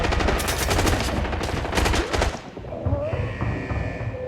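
Rapid bursts of RPK gunfire in the video game Arena Breakout crackle in dense automatic volleys, loud and close, then stop, leaving a faint electronic hum and muffled game sounds.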